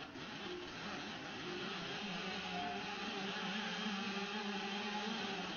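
Simulated car engine from a racing game played on an Apple iPad, a steady buzzing engine drone with shifting revs, fairly faint and continuous throughout.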